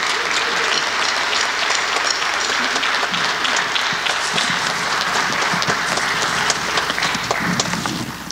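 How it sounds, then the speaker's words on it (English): Audience in a church service applauding, dense continuous clapping that fills the room for the whole stretch, close and loud with no talk over it. "Give them a round of applause if you would,"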